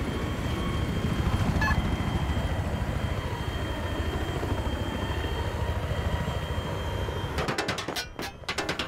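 A military helicopter in a multiplayer war video game drones with a steady rotor thrum throughout, loud and close, with a brief burst of choppy gunfire-like pulses near the end.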